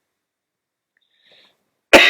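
A single sharp cough bursts out near the end after a nearly silent stretch, loud and close.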